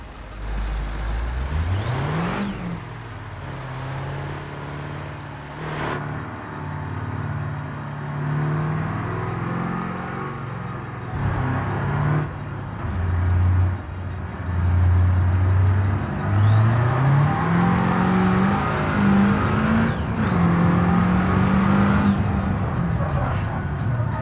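A T-Series truck in the BeamNG video game accelerates hard, its engine note climbing steadily through repeated gear changes, loud and close with a high whine on top.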